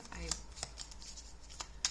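Oracle cards are shuffled by hand during a tarot-style reading, giving soft papery riffles and taps that come in irregular bursts at close range over a low steady background hum.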